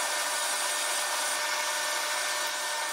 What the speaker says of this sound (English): I'm going to turn the lathe on and turn on the power feed